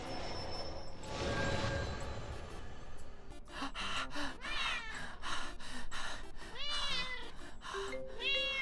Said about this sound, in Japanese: 猫も鳴きます。